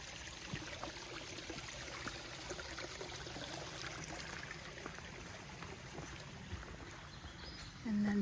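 A creek crossing on the Gahuti Mountain Trail in Georgia, its water trickling and flowing as a faint, steady wash that runs unbroken from start to finish.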